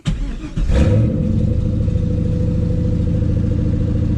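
A car engine cranks briefly and catches, then settles into a steady, rumbling idle close by.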